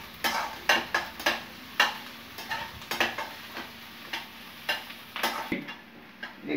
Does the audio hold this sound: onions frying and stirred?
yes